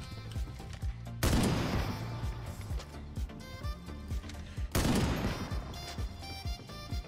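In the video game Ironsight, a sniper rifle fires two loud, sharp blasts a few seconds apart, each leaving a ringing tail, over a steady patter of footsteps.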